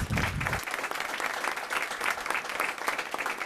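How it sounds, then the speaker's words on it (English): An audience at a city council meeting claps for the developers, a sustained, fairly loud burst of many hands in a hall, with a brief low rumble at the very start. "Please give us a round of applause for our developers."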